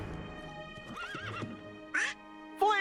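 A horse in the Kingdom Hearts 3 video game gives a wavering whinny and two sharp snorting calls over a low game soundscape.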